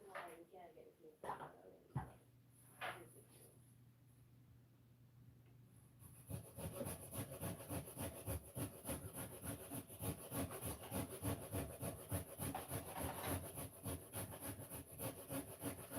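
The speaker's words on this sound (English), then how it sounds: "So I'm just grating up the coconut for the grated cake." Coconut grated by hand for Jamaican grated cake, a steady rapid rasping rhythm that begins partway through after scattered kitchen knocks, with people talking and a dog barking in the background.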